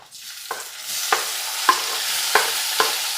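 Onion and tomato fry in a pan for a sardine fish curry, a loud, steady close sizzle broken by about five sharp scraping stir strokes at regular intervals, with no talk.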